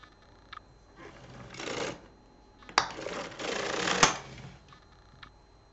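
A knitting machine's intarsia carriage sliding across the needle bed to knit a two-colour cable row, heard as two broad, close rattling sweeps with small clicks between them, and no talking.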